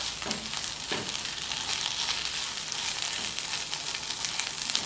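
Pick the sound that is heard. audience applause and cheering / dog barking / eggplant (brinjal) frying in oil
eggplant (brinjal) frying in oil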